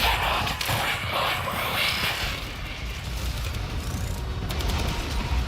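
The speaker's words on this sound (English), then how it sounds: "I've only got a few mortars left. Firing them all." Mortars fired in the video game Warframe: a rapid barrage of booming launches and explosions rolls on continuously, dense and loud, with no quiet gap between the blasts.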